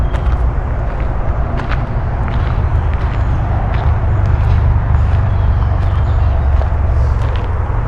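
Steady road traffic roars continuously from nearby along a campsite by the C&O Canal, a dense low wash of passing vehicles with no pauses and no talk.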